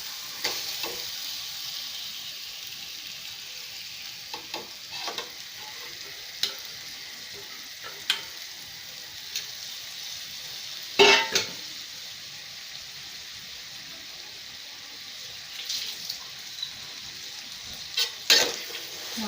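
Mutton sizzles and fries in a pan and is stirred now and then. A steady hiss runs throughout, with occasional scrapes and clinks of the utensil against the pan.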